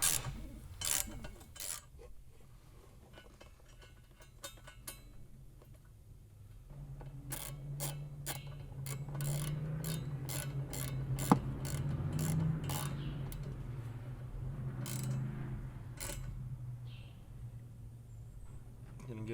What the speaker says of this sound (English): once the Allen's in, you can kind of just slowly start to suck it up and get it in there and get it tight